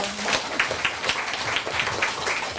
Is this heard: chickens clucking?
no